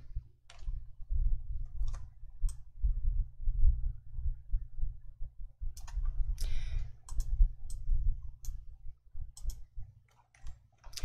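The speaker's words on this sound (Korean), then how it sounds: "컨트롤 1 눌러주세요" Keys on a computer keyboard are pressed in a spreadsheet exercise, sparse sharp clicks scattered over a steady low hum, close and fairly quiet with no talking.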